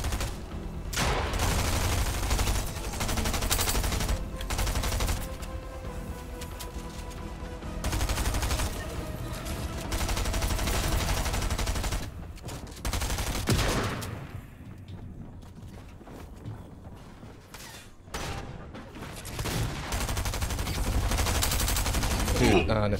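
Sustained Fortnite gunfire, with loud, dense bursts of rapid shots from close range filling most of the stretch and brief quieter gaps between volleys.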